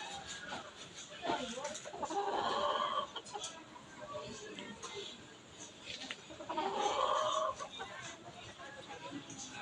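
A chicken clucks repeatedly nearby in short bursts, with quieter rustling and faint background sounds between the calls.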